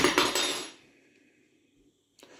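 A metal spoon drops onto a hard kitchen surface during a home earthquake, giving a few sharp clattering impacts in quick succession that ring out and fade, followed by a brief faint rattle.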